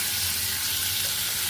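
Vegetables sizzle and fry in a pan, a dense steady crackle with a low hum underneath, close and continuous, no voices.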